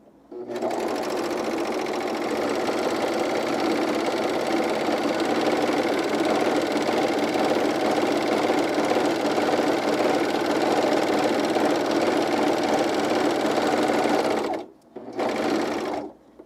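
A serger sewing machine runs steadily while finishing underwear fabric, a loud continuous whirring rattle close by for about fourteen seconds, then a brief stop and a short restart.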